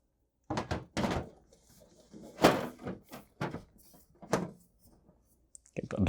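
A computer case side panel door is fitted onto a video editing PC during an upgrade, giving a few loud, close thunks and knocks with quieter handling clatter between them and no talk over it.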